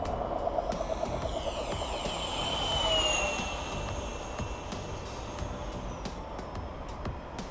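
An E-flite F-15 RC model jet with a whistle makes a full-throttle low pass, a loud whining jet roar that swells and Doppler-sweeps as it passes close, then fades against wind noise.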